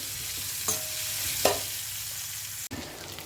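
Big onions sautéing in a pan for sambar, a steady low sizzle with a few brief spoon scrapes and clinks, heard close with no talking.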